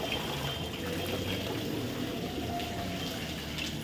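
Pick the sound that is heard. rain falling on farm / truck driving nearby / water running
water running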